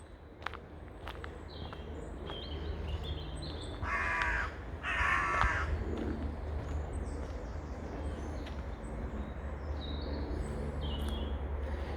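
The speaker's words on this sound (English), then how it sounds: "I can hear the crows cawing." Crows caw in two loud bursts midway, with scattered bird calls and a steady outdoor hum around them, in an afternoon woodland with bluebells at Elmstead Wood.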